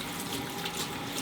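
Tap water runs steadily from a kitchen faucet while vegetables are rinsed for a Gilaki herb and meat stew, a continuous close splashing hiss with no talk.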